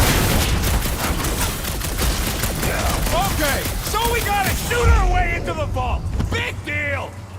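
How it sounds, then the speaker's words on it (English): Rapid gunfire in a Guardians of the Galaxy–style action video game while breaking into a vault, dense continuous bursts under game music, with voices talking over the shooting in the second half. "Okay, so we gotta shoot our way into the vault!"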